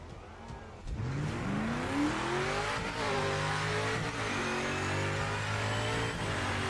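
A race car in Project Motor Racing revs up hard and accelerates, its engine note climbing and shifting through gears, loud and close, running on alone.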